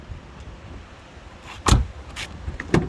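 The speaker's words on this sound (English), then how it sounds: "2 electric windows, electric mirrors work good." Electric windows on a Vauxhall Zafira 1.7 CDTi moving, close and fairly loud: a few short motor whirs and clunks in quick succession after a quiet interior lull, with no talk.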